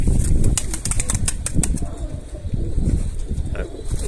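A pigeon beats its wings in a burst of rapid flapping claps up close, then the flutter fades into softer rustling and a faint coo, with a voice speaking in the background.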